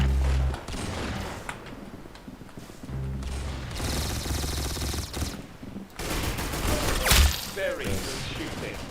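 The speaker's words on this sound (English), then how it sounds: "Very good shooting." Rapid gunfire fills the stretch in dense, loud bursts and fusillades, with brief pauses between volleys and a sharp crack near the end.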